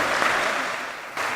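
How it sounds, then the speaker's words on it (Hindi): An audience at a Jagannath Puri religious discourse event claps to welcome a guest, with a steady, moderately loud wash of applause that drops off briefly near the end before picking up again. "आप सभी लोग जोरदार तालियां बजाकर आप अभिनंदन और स्वागत करें।"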